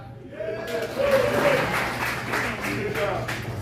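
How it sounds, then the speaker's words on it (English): Comedy club audience breaks into scattered applause, moderate and fairly close, with a voice talking over the clapping. "Go ahead, clap."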